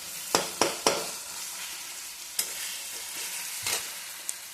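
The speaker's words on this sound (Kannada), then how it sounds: "ಇದು ನೋಡಿ ಹೀಗೆ ಹಿಂಗೆ ಹುರಿಬೇಕು ಕೆಂಪದಾಗಿ ಹುರಿಬೇಕು" Dried red chillies roasting in a hot pan until they turn red, with a steady sizzle and a few sharp clacks of stirring near the start and more scrapes later; no voices.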